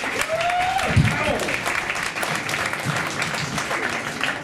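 A comedy club audience applauding and cheering for the host, dense close clapping with whoops and shouts that runs throughout at an even level, with a brief voice heard early on.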